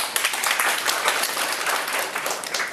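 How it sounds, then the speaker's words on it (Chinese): An indoor audience applauds to welcome a speaker at a talk, a dense, steady burst of clapping from many hands that lasts the whole moment without pause. "那我们先热烈掌声欢迎雪莉"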